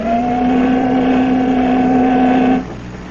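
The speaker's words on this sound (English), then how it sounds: "They got the engines going again, sir." Yacht engines running in a radio drama: a loud steady motor drone with a constant hum that holds evenly, then cuts off abruptly near the end, leaving quieter background noise.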